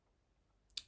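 One key pressed on a computer keyboard gives a single soft, sharp click near the end of an otherwise near-silent moment.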